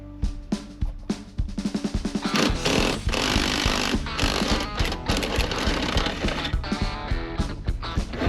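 A power tool running in short rapid bursts, then a sustained loud whir, while bolts holding a G-Body car's front fender to the cowl are removed; close and dominant, with no talking.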